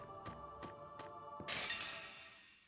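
A shattering burst from the Dawn of the New World video game when an enemy is surprised. A few soft knocks over a steady tonal hum come first, then a bright, loud crash that fades out slowly.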